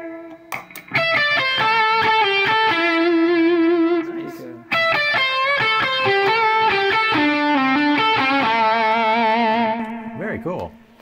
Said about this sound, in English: But it's actually a very cool distortion.